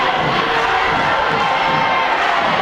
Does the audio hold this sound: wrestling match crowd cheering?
yes